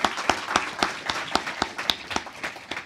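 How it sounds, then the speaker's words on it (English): An audience at a clean energy summit in the District of Columbia gives a panel a round of applause, with steady, moderately loud clapping from a crowd through the whole stretch and no talking. "let's give a round of applause for our panel this afternoon"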